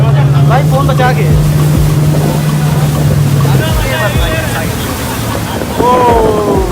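A speedboat races along a river at Prayagraj, its motor a loud steady roar mixed with rushing, splashing water, while excited voices shout and talk over it.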